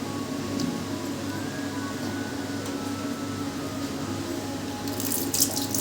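Soaked lentils being washed in water, a continuous close swishing and pouring of water with light sloshing and no talk.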